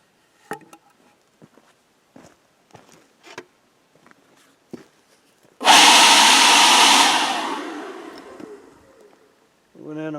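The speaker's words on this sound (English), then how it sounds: "It's a brand new coring bit too." Brief clicks and short knocks, then a loud burst of a power drill with a brand new coring bit running for about three seconds and winding down, followed by a voice.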